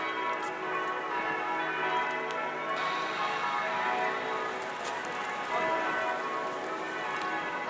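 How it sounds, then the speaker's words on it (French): Church bells ring in Rome, a steady bright peal of overlapping tones that carries on throughout, heard from outdoors amid faint ambient noise. "Ici, les cloches."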